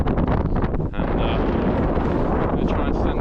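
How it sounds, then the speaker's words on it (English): Strong wind batters the microphone on a mountain during a snowstorm in Norway, a loud continuous rumbling roar with gusty surges, while a person talks over it. "The wind's getting up. Getting a lot more windy now up here."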